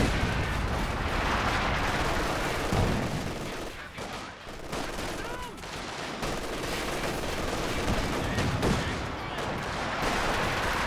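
Greyhound armored car firing in a Company of Heroes 2 battle, a dense, loud roar of overlapping gunfire, cannon booms and explosions running throughout, with faint battlefield voices mixed in.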